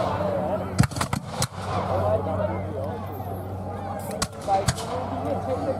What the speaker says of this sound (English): I think it's just a really big musket